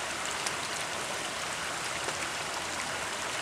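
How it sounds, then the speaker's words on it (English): Rain-swollen stream water rushes steadily past, a dense, unbroken roar of flowing water close by with no pauses or voices. "That's some rain. That's some water."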